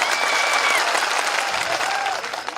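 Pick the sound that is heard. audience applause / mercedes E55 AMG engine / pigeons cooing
audience applause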